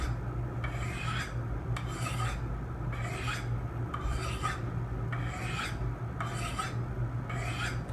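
A knife edge worked on a Work Sharp Ken Onion sharpener gives a repeated dry rasping stroke roughly every second, steady and moderately quiet with no voices.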